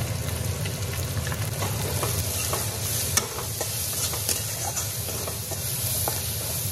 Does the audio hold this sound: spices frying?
yes